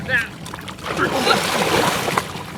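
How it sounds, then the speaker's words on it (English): A rescue boat carrying a crew and a volunteer acting as a drowning victim is launched during a water rescue drill, producing close splashing and sloshing under overlapping talk. "Boat 1 hit the water with a crew and one member of the unit volunteering as a drowning victim to be rescued."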